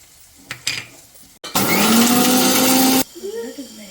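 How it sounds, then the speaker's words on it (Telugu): A kitchen mixer grinder runs loudly for about a second and a half, whirring as it grinds dry-roasted spices with salt, then cuts off sharply. A few knocks and a voice come before it, and talk follows. "ఇప్పుడు మనం ఇందాక డ్రై రోస్ట్ చేసి పెట్టుకున్నాం కదండి, అవి చల్లారిపోయాయి. దీన్ని ఒకసారి మిక్స్ చేసేసుకుందాం."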